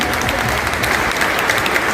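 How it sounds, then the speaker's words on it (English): An audience at a cancer relief foundation event claps for a cured cancer survivor, with dense, steady applause filling the room at full volume for the whole stretch. "Give him a big applause."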